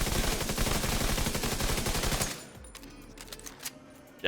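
An exotic gun in The Division 2 with an electric effect fires a rapid, loud automatic burst for about two seconds, then stops, leaving sparse crackles and a sharp final report.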